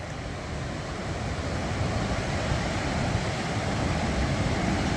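Water pours at speed from an outlet of the Jayakwadi earthen dam, making a steady, dense rushing roar that stays loud and even throughout, with no voices.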